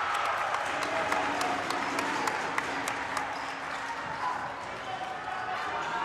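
A crowd at a high school boys basketball semi-final cheers and claps steadily in a gym, a continuous lively roar with sneaker squeaks and ball bounces poking through, while a commentator talks over it.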